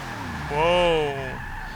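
A 1993 Ford SVT Cobra R spins out in the racing game Forza 6, its engine whining in a rising-then-falling sweep over about a second against a steady background of car noise.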